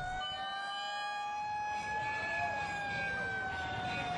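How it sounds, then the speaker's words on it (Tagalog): Fire truck sirens wail through the streets of Manila, their rising and falling tones overlapping loudly and continuously over a low bed of traffic noise. "mga fire truck na nagpatunog ng kanilang sirena para balaan ng mga Manilenyo"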